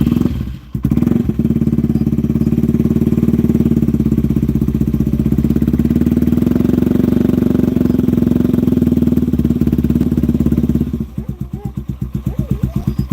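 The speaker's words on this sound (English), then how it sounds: "McCade says that this TW right here actually sounds the best of all of them" A Yamaha TW motorcycle fitted with a Bradley Performance slip-on exhaust runs steadily close by, a loud, even, thumping single-cylinder drone that holds for several seconds before settling into a choppier, pulsing idle at the end.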